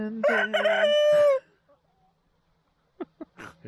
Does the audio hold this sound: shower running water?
no